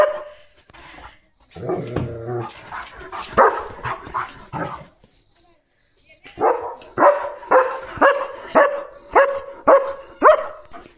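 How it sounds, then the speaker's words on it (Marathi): A German Shepherd barks repeatedly, near and loud, with a quick steady run of barks near the end after some earlier scattered yips and whimpers. "कशाला एवढं भुंकतो"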